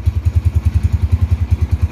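A 2007 motorcycle idles while warming up, its engine beating out a loud, close, evenly spaced thumping pulse with no other sounds over it.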